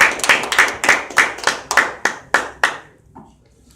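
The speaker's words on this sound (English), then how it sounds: "let's give Kelly a big round of applause" Applause at a community meeting comes through as about nine sharp, evenly spaced handclaps, close and crisp, ending abruptly before a faint pause.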